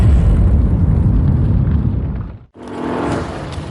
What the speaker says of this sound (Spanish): 450 toneladas de explosivos para provocar una gran y única explosión